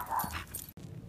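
A dog whimpering with a short high whine and yip, close and fairly clear, cut off briefly by a sudden gap before quieter background continues.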